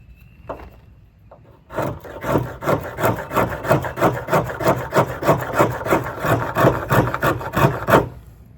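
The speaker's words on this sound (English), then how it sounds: "Now let's see if we can make some scrapings off of that good sharp spine." A Mora Companion stainless knife's sharp spine scrapes shavings off wood in a steady, rapid series of raspy strokes, loud and close, after a few faint taps at the start.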